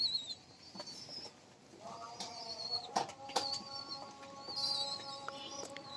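Very young pigeon chicks in a home loft make thin, high squeaky peeps in short bursts, along with soft thuds and a few fluttering wing sounds. The sound is close and moderately loud, with no talk.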